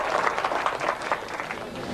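A crowd claps in steady applause at a presidential gathering. The dense, even clapping holds at a fairly loud level for the full two seconds, with no voices standing out.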